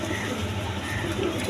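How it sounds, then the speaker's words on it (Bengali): A pair of Lahori pigeons coo softly in low, steady murmurs that run the whole time without a break. "দর্শকবৃন্দ দেখেন এইখানে আরেক পেয়ার লাহোরি কবুতর আছে"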